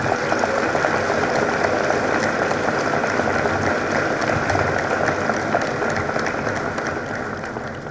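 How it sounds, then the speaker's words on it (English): Sustained applause from the crowd at a high school Class of 2011 graduation ceremony, dense and even, holding strong before slowly tapering off toward the end. "Let's give them a round of applause."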